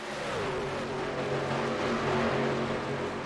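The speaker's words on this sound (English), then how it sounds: "just listen to some of the engine noises" Racing video game truck engines droning continuously at a steady high pitch through a stock-truck-style race, loud and unbroken with a slight swell in the middle and no talking.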